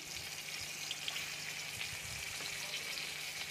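Guava pieces fry lightly in ghee with black pepper and black salt, giving a quiet, even sizzle that crackles softly and continuously with no voices over it.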